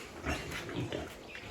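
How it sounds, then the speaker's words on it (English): Pigs on a farm in Burundi grunt in a few short, low bursts close by, with quiet background noise around them. "those are mom's pig."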